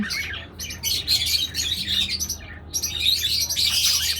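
Pet birds, apparently a pair of small cage birds offered for sale, chirp and squawk in rapid, overlapping bursts close by over a low steady hum, with a brief lull midway before the calls pick up again.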